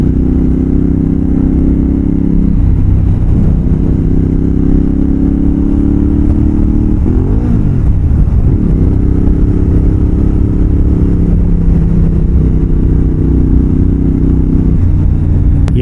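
A Yamaha X-Cape 1200 adventure motorcycle pulls uphill in fifth gear at about 50 mph, its engine a loud, steady drone heard from the rider's position, the pitch rising and dipping slightly as throttle is applied.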